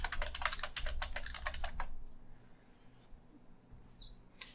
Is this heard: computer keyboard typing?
yes